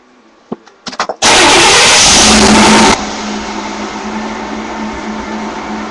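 A car engine starts inside a home garage after a few clicks and bumps, cranks into a loud blaring roar for about two seconds, then drops to a steady, quieter idle that hums on close by.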